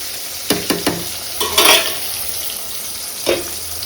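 Potol, pointed gourd, sizzling in a frying pan at close range, with short clustered scrapes and stirring bursts over a continuous hiss and no talk.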